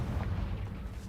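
A Confringo blasting spell explodes in Hogwarts Legacy with a short, heavy, low rumbling boom that fills the moment and slowly fades.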